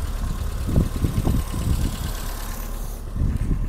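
A 1984 BMW E30 318i sits idling in park with a low, even engine rumble and slight rhythmic pulsing throughout.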